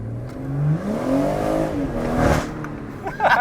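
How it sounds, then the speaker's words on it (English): A BMW M140i engine revs up and falls back in a rising and falling drone, with a crackling off-throttle pop near the end. "that off throttle bang sounds exactly like my car"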